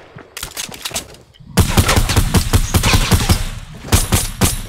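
Gunfire in the Fortnite video game: rapid, loud shots in close repeated bursts, with a brief quieter gap before a dense run of firing.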